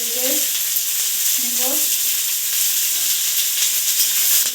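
Chopped onion and chili frying in hot oil for aloo paratha, a loud, close crackling sizzle with a couple of brief tonal scrapes from stirring near the start and no speech.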